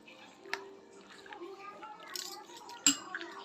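Metal spoons clink against bowls and dishes while chaat is being served from a pressure cooker at home, with a few sharp chinks over quieter clatter and people talking nearby.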